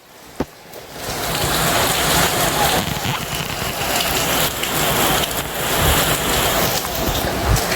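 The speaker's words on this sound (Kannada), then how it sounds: "ಫುಲ್ ಜೋರಾಗಿ ಮಳೆ ಬರ್ತಾ ಇದೆ." Heavy rain pours down in a steady, loud, close roar that barely varies throughout, with one sharp knock near the start.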